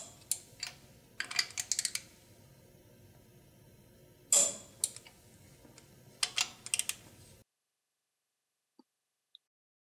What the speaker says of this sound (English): Now finish them off with the torque wrench.